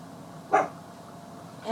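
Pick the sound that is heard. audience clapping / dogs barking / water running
dogs barking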